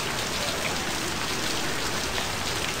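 Heavy rain pours down in Left 4 Dead 2, a dense, constant hiss of drops with no breaks, loud and uniform throughout without voices.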